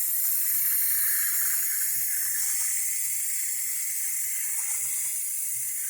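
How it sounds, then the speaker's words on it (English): A pressure canner processing pork broth vents steam in a strong, continuous high hiss that holds steady and close throughout, alone. "it looks like a cone of steam coming out, and it's coming out pretty strong"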